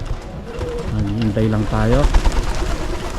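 Pigeons around an outdoor loft, with soft cooing and bird sounds mixed under someone talking close by.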